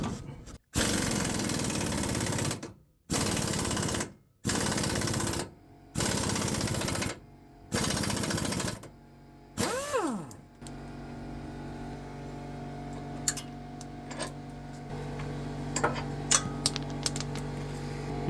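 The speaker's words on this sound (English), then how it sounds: "I'm using air tools to make this a lot easier." Air impact wrench removing upper shock bolts during a Kelderman shock replacement: six loud rattling bursts of a few seconds each with short pauses, then the tool spinning down, followed by quieter clinks and handling noises.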